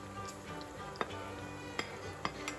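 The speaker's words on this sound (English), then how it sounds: "now I'm going to go ahead and add back my smoked sausage" Smoked sausage being added to a pot of smothered cabbage and stirred, a faint simmer with a few light spoon knocks and clinks against the pot.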